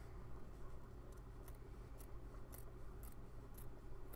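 Scissors trimming wool felt snip in a steady rhythm, about seven crisp cuts in quick succession over a low background hum.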